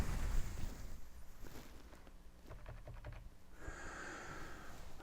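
A computer keyboard is typed on in a short run of light, rapid key clicks that stand out midway against a constant hissing room noise, with no talking.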